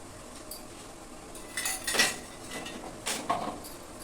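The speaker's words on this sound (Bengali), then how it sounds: "লবণটা দিয়ে এভাবে একটু খুন্তিতে একটা নাড়াচাড়া দিয়ে লবণ জলের সঙ্গে একটু মিশিয়ে নেব" Metal spatula stirring salt into hot water in a cooking pot for raw mango murabba, giving a few sharp scraping clinks against the pot in two short bursts over a quiet background.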